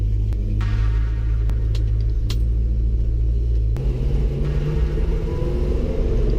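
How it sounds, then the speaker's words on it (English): A car engine warming up at idle with a deep, steady rumble and low hum, close and constant, with a few faint clicks and a slight shift in pitch midway. "I'm just going to wait for the car to warm up"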